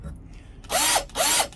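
A power drill spins a deburring tool against a 7.62x25 Tokarev brass case in two short bursts, each rising to a loud whirring whine and then winding down, separated by a brief pause.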